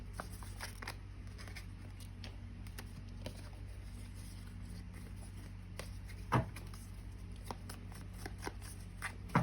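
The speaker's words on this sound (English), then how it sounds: "I'm gonna give this one more shuffle." Soft, riffling shuffles of a tarot-style card deck and light ticks over a low steady hum, with one sharper rustle near the end; quiet and close.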